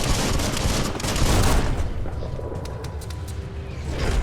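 Enemies in the Biomutant video game fire guns in a dense, loud burst of overlapping shots during the first second and a half, then scattered cracks follow over a softer background.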